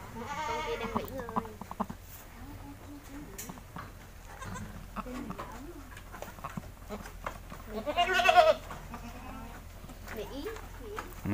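A goat bleats a few times beside a newborn kid on a farm while someone talks steadily close by, the bleats rising briefly over his voice.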